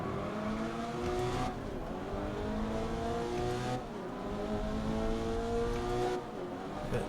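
Racing cars in the video game GRID 2019, including a Subaru BRZ and a Datsun, roar with a steady, loud engine drone whose revs rise and fall through gear shifts, with faint tire noise.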